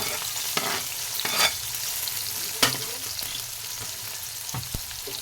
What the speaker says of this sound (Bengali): সবগুলোকে ভালো করে ভেজে নেব একটু